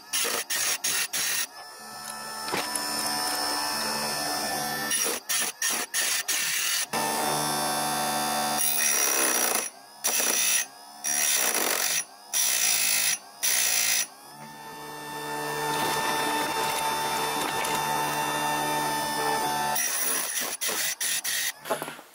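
A chain sharpening machine grinds the teeth of a saw chain, with a steady mechanical whine broken by a run of short, repeated grinding bursts and some clicking. No one speaks.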